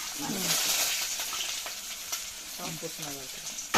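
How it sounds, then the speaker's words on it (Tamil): Onion, curry leaves and green chillies fry in a pan for a fish curry, giving a steady broadband sizzle with faint stirring scrapes and a few brief voices in the background. "வெங்காயம் கருவேப்பிலை பச்சை மிளகாய் ம் எல்லாத்தையும் போட்டுட்டு நம்ம கொஞ்சம் நல்லா இதை வதக்கி விட்டுக்கலாம்"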